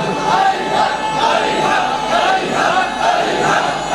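Large crowd chanting religious slogans at a Muharram majlis in Bekhewal, Lahore, a dense overlapping roar of many voices with a steady rhythmic pulse, loud and continuous throughout.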